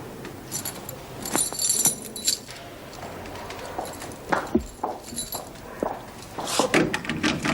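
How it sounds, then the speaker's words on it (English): A bunch of keys jangles sharply in a couple of short bursts as it is handed over, close by, among footsteps and soft knocks in a quiet room. "You can leave your keys with me, Miss Bennett"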